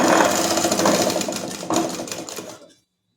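A sewing machine runs a fast, rhythmic stitching burst along a fabric sleeve seam. It is close and fairly loud, then cuts off abruptly near the end and leaves silence.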